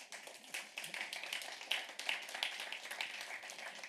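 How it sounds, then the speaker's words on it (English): Scattered applause from a panel audience welcoming a moderator, quiet, thin and a little distant, with individual claps audible throughout the short stretch. "Applause."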